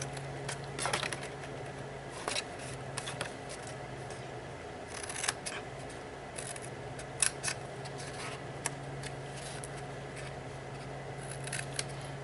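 Scissors snip through seam binding ribbon while trimming it for a small handmade ribbon box, giving a steady run of close, crisp cuts over a low background hum.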